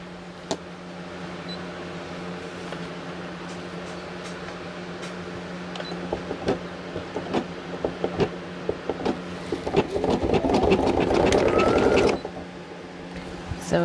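Brother SE1900 embroidery machine stitching a hat, a steady close mechanical whir with rapid needle ticks that grows busier and louder near the end before easing off.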